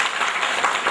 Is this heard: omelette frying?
no